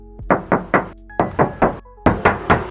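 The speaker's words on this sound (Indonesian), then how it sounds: "Jadi untuk bodi-bodinya masih mulus banget dan kita tes ketok lagi ya." Knuckles rap on the body panel of a 2015 Toyota Avanza with automatic transmission, giving three sets of three sharp, resonant knocks at close range, with a short pause between each set.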